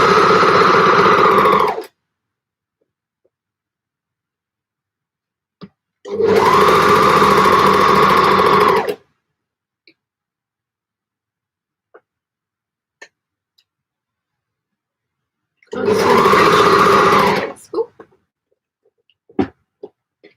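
An 830 sewing machine stitches in three bursts of steady, fairly loud whirring, each about two to three seconds long, with near silence and a few small clicks in between.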